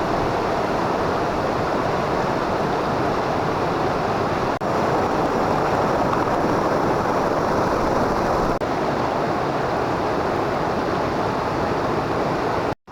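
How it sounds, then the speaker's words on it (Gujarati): Naazar Mata waterfall pours with a steady, loud, broadband rush of flowing water that fills the whole stretch without letup, close to the listener. "જોરદાર અહીંયા વોટરફોલ છે"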